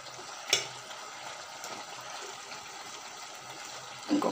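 Brinjal and small fish curry simmering in a pot, a soft continuous bubbling and sizzling hiss with a couple of faint clinks, quiet and close.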